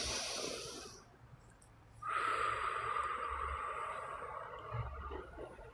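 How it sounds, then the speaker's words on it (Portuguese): A slow deep breath drawn in and let out, close and audible, with a soft hiss of air and a quiet background. "você pode fazer uma respiração profunda"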